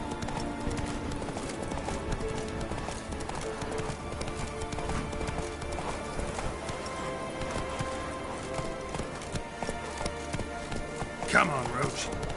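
Hooves of the horse Roach clip-clopping at a gallop in a PS4 video game, a fast steady rhythm over continuous background game sound, with a voice speaking over it.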